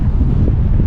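Strong wind at the Guanyin wind farm buffets the microphone, a loud, low rumbling roar that stays steady through the short moment.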